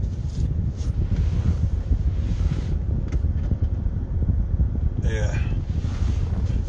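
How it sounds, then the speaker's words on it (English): Steady wind roars and buffets the microphone with a constant low rumble, muffled voices faintly underneath. "Oh, it's windy."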